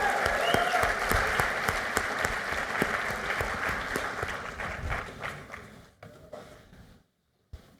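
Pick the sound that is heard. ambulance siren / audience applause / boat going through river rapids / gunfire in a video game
audience applause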